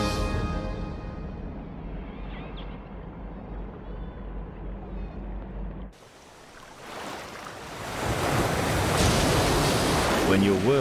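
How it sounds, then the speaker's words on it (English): Ocean waves at the open sea surface wash in a continuous broad roar, moderately loud, with a brief lull midway before swelling into louder, rougher surf noise. "Alone on the surface, he uses his sensitive hearing to listen to the sounds of the ocean."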